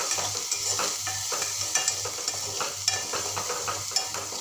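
Chopped tomato with turmeric and red chilli powder being sautéed in a pan, a steady sizzle with rhythmic stirring scrapes repeating about twice a second, close and continuous with no talking.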